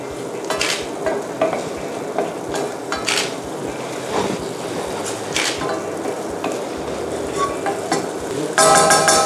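Spinach being stir-fried in a pan gives a steady, close sizzle under frequent stirring scrapes and clinks, and a brighter hiss flares up at the end.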